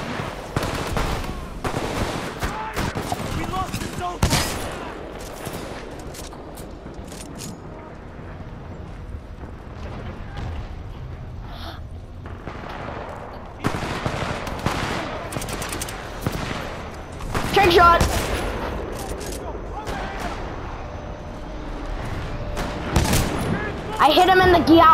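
Rapid gunfire from the Titanfall 2 video game comes in bursts of loud automatic fire and sharp single shots, some close and dense, with a player talking between them.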